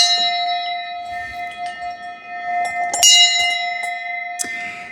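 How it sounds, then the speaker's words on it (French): A decorative ship's bell serving as a front door bell rings with a clear, sustained metallic tone and lingering overtones, struck again a couple of times as it fades, close and alone. "cette magnifique cloche qui, avec son tintement, fait office vraiment de sonnerie, de sonnette de porte d'entrée"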